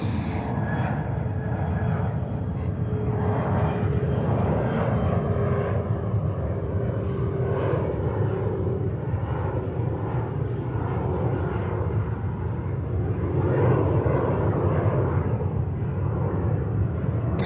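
A jet airliner arriving from Amsterdam at JFK airport roars steadily throughout, a constant broad engine rumble with a faint high whine, heard from a distance with no break.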